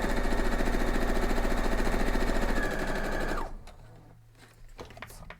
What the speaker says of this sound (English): Let's see if we can just spin this around and sew it